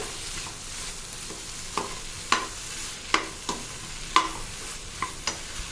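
Sautéing in oil in a pan with grated coconut, a soft steady sizzle broken by several sharp spoon scrapes and knocks as the mixture is stirred.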